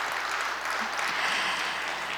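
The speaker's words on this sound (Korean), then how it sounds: "여러분 다시 한번 박수 부탁드리겠습니다." An audience at a Korean island forum applauds, a soft, steady wash of clapping that sounds distant and fairly faint.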